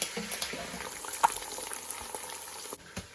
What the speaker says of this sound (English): I don't like frying stuff.